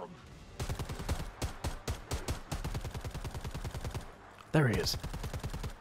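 Rapid automatic gunfire crackles in Predator: Hunting Grounds, fast rhythmic bursts with brief pauses and a heavier blast near the end. Someone speaks briefly over it.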